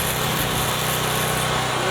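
Electric welding on a rusted wrought iron rail, a steady loud buzzing hiss with a constant crackle running throughout, close up and unbroken, with no voices.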